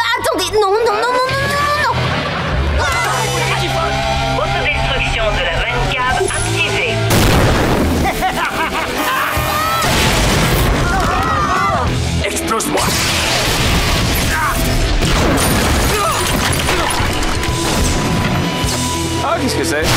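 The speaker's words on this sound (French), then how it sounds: "C'est sur le point d'exploser." A cartoonish explosion with booms, crashes and whooshes from a French-dubbed final-season Henry Danger episode, loud bursts and impacts layered with music and shouting French voices across the whole stretch.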